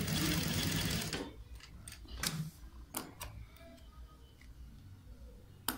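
A sewing machine stitching a V-neck collar: a loud, dense mechanical whir for about a second, then it stops, leaving scattered light clicks and fabric handling.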